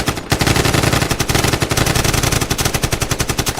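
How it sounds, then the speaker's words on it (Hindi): AK-47 rifle fire in a sustained, rapid automatic burst, loud and close, with dense cracking shots repeating without pause. "उन्होंने कृष्णानंद राय की गाड़ी को चारों तरफ से घेर कर गोलियां दागनी शुरू कर दी।"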